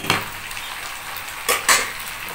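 Soft spoon scraping and stirring in a pot of payesh rice pudding with cardamom, a few light clinks and rustles at moderate distance, with no talking.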